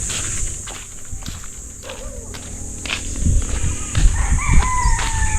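A rooster crows and chickens cluck outdoors, with scuffling footsteps and rustling close by.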